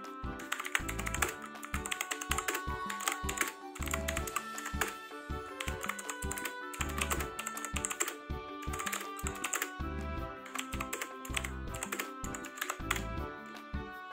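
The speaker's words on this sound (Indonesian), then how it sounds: "sekarang kita mau coba tes ngetik di keyboard Aula S2016" Someone types quickly on an Aula S2016 mechanical keyboard with blue switches. The sharp, clicky keystrokes come close and loud in uneven bursts, with short pauses between runs.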